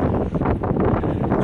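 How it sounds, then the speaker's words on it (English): Strong wind buffets the microphone outdoors near a new apartment, a steady low rumble with gusty swells and no one speaking. "Very windy."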